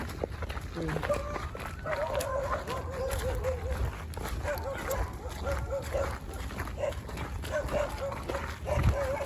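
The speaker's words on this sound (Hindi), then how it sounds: "आगे कुत्ते भौंक रहे हैं।" Several dogs barking repeatedly at night near an old ruined palace in Jhandewalan, Delhi, in an uneven series of barks at moderate distance over steady background noise.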